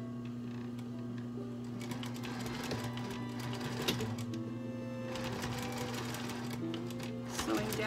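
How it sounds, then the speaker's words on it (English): A sewing machine stitching down the pleats of a fabric face mask, a steady mechanical whir with rapid needle clatter in bursts, close and continuous; faint talk may sit underneath. "now we're going to sew down the other side"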